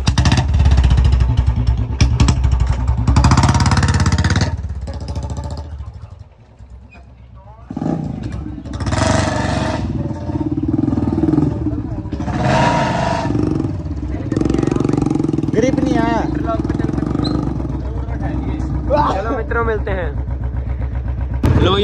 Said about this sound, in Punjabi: ਇੱਕ ਵਾਰੀ ਬੁਲਟ ਦੀ ਆਵਾਜ਼ ਵੀ ਚੈੱਕ ਕਰਾਂਗੇ ਚੱਲ